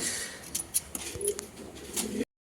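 A pair of Royal Teddy pigeons coo and flutter softly in a bird seller's loft of fancy breeds, with short scattered calls and rustles over a quiet background, no talk, ending abruptly.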